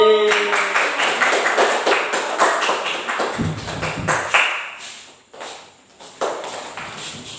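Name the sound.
audience applause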